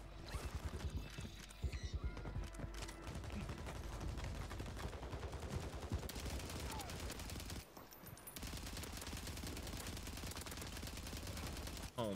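Rapid bursts of SMG fire in Call of Duty Warzone on Rebirth Island, fired repeatedly in quick strings with a short pause near the end, loud and close over game noise.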